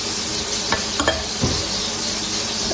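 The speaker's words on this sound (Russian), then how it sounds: "На фоне вы слышите, как жарятся котлетки, а Диана пробует борщ" Cutlets sizzling steadily in a frying pan in a home kitchen, a constant close crackle with a few soft clinks of utensils against the pan.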